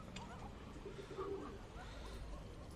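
A pigeon coos softly amid steady low background noise in a village, its faint murmuring call repeating once or twice while no one speaks.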